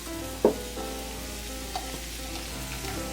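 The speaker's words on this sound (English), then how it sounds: "Add mushrooms to onion mixture remaining in the skillet and cook about 5 minutes or until the mushrooms are tender." Mushrooms sizzle and fry in a skillet with an onion mixture, giving a steady, moderate crackle with a few soft clinks of stirring and no talking.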